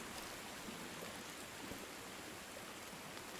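Heavy rain pouring down in the video game Sons of the Forest, a steady dense hiss of falling water that fills the whole moment, even and unbroken at a moderate level.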